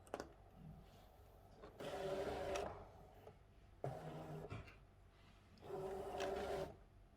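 A Brother ScanNCut SDX1200 cutting machine loads its mat, giving three separate whirring motor runs of about a second each, close and moderately loud, with short quiet gaps between them and no talking.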